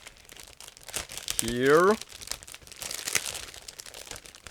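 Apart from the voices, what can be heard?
plastic bag crinkling while being opened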